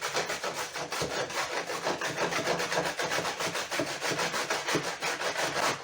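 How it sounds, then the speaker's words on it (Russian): A carrot rubbed by hand against a kitchen grater makes rapid, evenly spaced rasping strokes, close and steady, with no speech. "Сейчас натрем на терке"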